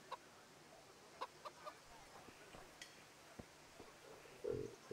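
Chicken clucking in the video game Kingdom Come Deliverance: faint, scattered short clucks and a louder squawk near the end, set against quiet game ambience.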